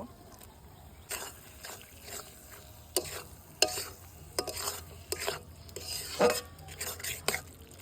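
Spice masala with tomato, salt and turmeric frying in a pan while being stirred, giving a low steady sizzle broken by scattered scraping strokes and sharp metallic clinks, fairly close with no voices.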